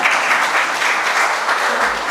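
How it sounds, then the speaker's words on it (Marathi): Audience applause at a felicitation ceremony honouring doctors and chartered accountants, a steady dense clapping that fills the hall evenly and continues throughout. "आता टाळ्या वाजवा."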